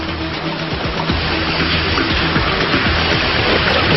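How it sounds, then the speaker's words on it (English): A small waterfall on a stream in cold Norwegian wilderness makes a steady, broadband rushing hiss that stays close and even throughout, with no voices. "I can hear the sound of a small waterfall ahead."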